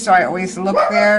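A dog gives a short, whiny yip or bark that is heard under a person talking nearby.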